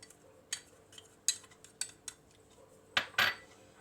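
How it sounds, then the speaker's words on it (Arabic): Cinnamon and brown sugar stirred in a bowl, with a utensil clinking sharply against the dish about eight times in an uneven rhythm, close up over quiet background. "نحط القرفة على السكر البني اللي عندنا ونخلطهم كويس مع بعض"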